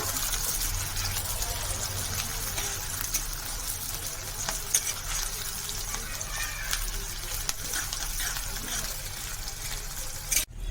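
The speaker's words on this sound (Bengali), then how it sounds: "তেল গরম হয়ে এসছে প্রথমে পেঁয়াজ কুচিগুলো দিয়ে দিচ্ছি দিয়ে গুঁড়োগুলো ভালো করে নেড়ে পেঁয়াজ কুচিগুলো একটু ভাজা ভাজা করে নেব" Chopped onions fry in hot oil with turmeric and other ground spices, giving a steady broadband sizzle with occasional stirring scrapes, close and continuous throughout.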